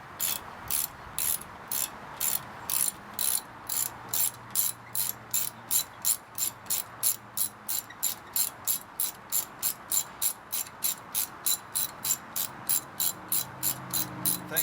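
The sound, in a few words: ratcheting socket wrench loosening corroded brake bolt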